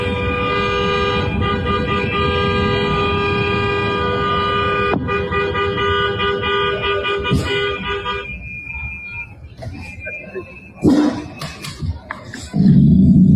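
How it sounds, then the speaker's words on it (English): Car horns blare in a long sustained honk, then stop, followed by short scattered toots and traffic noise nearby. "And there's a whole lot of horn honking."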